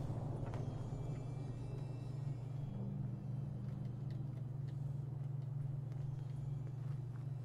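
Steady low thunderstorm rumble in the post-apocalyptic video game Fallout 4, a continuous deep drone holding at even loudness throughout with no speech over it.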